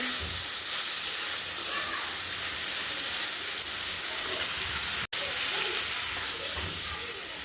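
Water poured onto vegetables frying in a pan bursts into a loud, steady sizzle and hiss of steam that continues close-up throughout, with a brief cut partway through.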